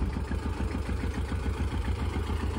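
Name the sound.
old historic tractor engine idling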